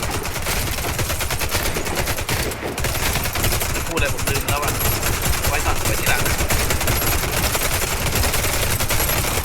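Rapid automatic gunfire sprays at zombies in the shooter game Warface, a loud, steady stream of fast, evenly spaced shots that runs without a break, with a voice faintly under the barrage at times.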